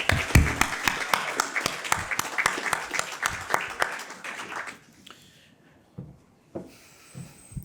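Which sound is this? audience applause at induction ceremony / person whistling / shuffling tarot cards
audience applause at induction ceremony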